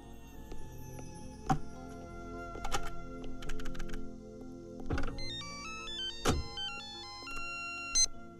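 A phone rings with a repeating electronic ringtone during a call in a Hindi film scene, mixed with scattered keypresses and soft clicks, fairly quiet.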